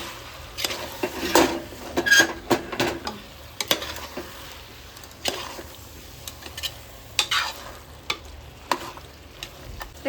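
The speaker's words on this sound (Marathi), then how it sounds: "हे सुद्धा एकदा मिक्स करून घेऊया." A spoon stirs a biryani mixture of mint and coriander in a hot pan, scraping and clinking against the metal in irregular strokes over a faint sizzle, close and alone.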